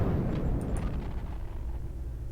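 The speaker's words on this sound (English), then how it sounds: "After explosion." Explosion in the Star Trek Online video game, a heavy rumbling roar that fades slowly into a low sustained rumble, loud and close with no speech.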